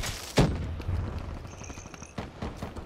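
A grenade detonates in Black Ops 3 multiplayer, a sharp loud blast followed by scattered gunfire and thuds in the game's combat mix.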